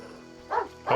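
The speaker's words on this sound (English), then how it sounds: "It's a dog." A dog in The Witcher video game gives two short barks about half a second apart, close and fairly loud over a quiet background.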